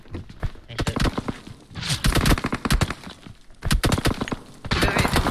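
Sharp bursts of gunfire in the mobile shooter PUBG Mobile, coming in quick irregular volleys of rifle shots with short pauses between clusters, loud and close.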